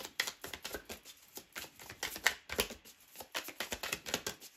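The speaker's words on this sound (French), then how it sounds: "On prend 3 cartes de l'Apollonia." Tarot cards drawn from a deck and laid down, a quick series of crisp papery flicks and slaps in irregular bursts, close and fairly quiet, with no talking.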